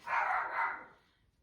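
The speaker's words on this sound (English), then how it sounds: "Barking like crazy" A pet dog indoors barking excitedly at people outside the house, two quick faint barks followed by a trailing whine, somewhat distant and muffled, with no talk.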